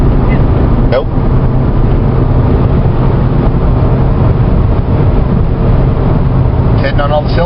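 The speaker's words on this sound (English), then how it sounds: "the engine does run good now" A 2003 Ford Escape engine running smoothly after an upper intake manifold repair, with a steady, loud low rumble that continues under people talking.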